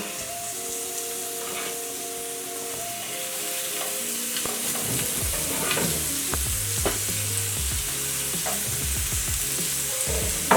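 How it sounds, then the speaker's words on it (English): Beef patties sizzle loudly in hot butter, a steady crackling hiss with occasional pops and scraping, no voices. "You can hear that sizzle."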